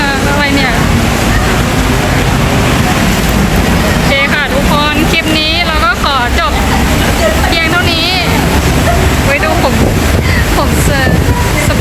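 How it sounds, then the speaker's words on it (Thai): Strong wind buffets the microphone outdoors in Bangkok with a loud, continuous roar while a person talks over it. "นี่ลมแรงมากฝนจะตกอีกหรือเปล่าเนี่ย"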